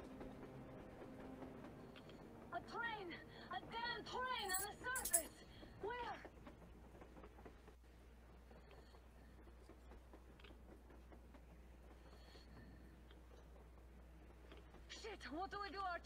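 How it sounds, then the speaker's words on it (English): A train in Metro Exodus rumbles past with clattering, screeching metallic tones and a steady low drone, while a voice talks over parts of it. "That's a train. Train go burr."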